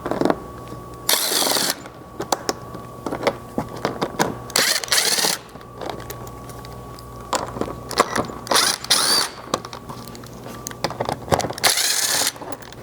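Ratcheting and spinning bursts of a socket tool backing out screws along the plastic front edge under a Chevy Colorado, coming in several loud spurts separated by pauses and handling clatter, up close with no talk.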